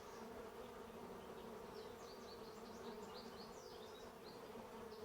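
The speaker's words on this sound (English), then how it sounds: "Remaining bees seem to be working their way in." A honeybee swarm hums steadily into a hive box holding brood frames, a dense, continuous buzz close to the ear with individual bees zipping past now and then.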